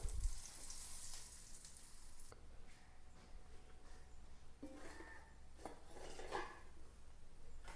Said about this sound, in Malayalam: ചാറിലേക്ക് താളിപ്പിട്ട് കൊടുക്കാം